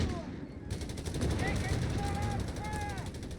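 Gunfire and machine-gun bursts from a Company of Heroes 3 battle, including .30 and .50 cal fire on tanks, rattle steadily under a commentator's voice.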